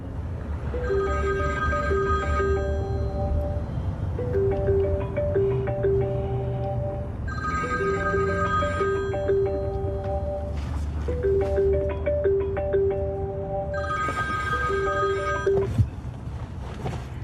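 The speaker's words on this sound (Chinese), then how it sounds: "怎么半天不接电话呀？" A telephone rings in repeated bursts, an electronic ring pattern cycling three times with short pauses, loud and close, no voices.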